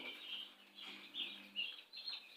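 Newly arrived broiler chicks chirp softly in a brooding pen, a steady faint cheeping chorus with a few brighter peeps rising above it, no talking.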